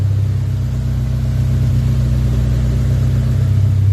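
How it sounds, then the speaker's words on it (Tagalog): A Honda Civic engine runs steadily during break-in inside a shop, an even, low mechanical hum and rumble with no change in pitch. "ito yung binibreak-in natin, Honda Civic"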